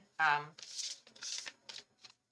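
A short vocal sound, then several quick riffle shuffles of a card deck, crisp and close, in bursts with brief pauses.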